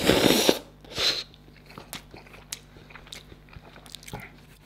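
Close bites and chewing of Greek pasta with minced meat and cheese: a sharp bite at the start, another soft bite about a second in, then quiet wet chewing and small mouth sounds.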